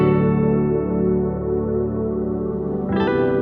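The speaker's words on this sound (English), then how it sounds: "let's go ahead and add some reverb to these vocals." Vocal samples run through a stock Logic reverb plugin: sustained, harmonically rich sung tones with a smeared, echoing wash and a brighter shift near the end, loud and without speech.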